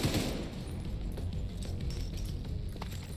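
Rapid automatic gunfire rattles continuously in the video game The Division 2, a dense, loud burst of shots with a sharper bang at the start and no pause.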